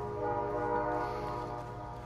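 Train rolling past in Call of Duty: Modern Warfare II multiplayer, a steady loud mechanical rumble with sustained horn-like tones running through the whole moment, no speech over it.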